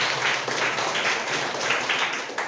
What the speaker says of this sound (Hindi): चलिए इसके लिए मैं जोरदार ताली।